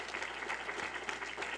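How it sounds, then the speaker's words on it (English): Audience applause at a congressional town hall in San Juan Capistrano, a dense, steady wash of many hands clapping throughout, moderately distant and without talk. "I want to start by giving a round of applause to our wonderful staff who helped put this together, Ellen Montanari"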